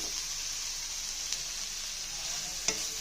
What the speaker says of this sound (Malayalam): ആ ഇലയും എല്ലാം അരിഞ്ഞു വെച്ചത് നമുക്ക് ഇട്ട് കൊടുക്കാം.